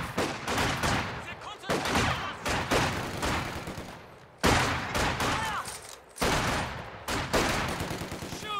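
Dense gunfire fills a Company of Heroes 2 battle as Soviet rifle troops fight, rapid overlapping rifle and machine-gun bursts with booming volleys, loud and close, while soldiers' voices shout orders underneath.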